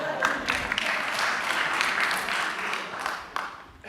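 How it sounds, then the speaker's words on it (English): A round of applause from the audience at a museum performance in Amsterdam's Stedelijk Museum, steady massed clapping close by that holds for several seconds before tapering. "give her a round of applause."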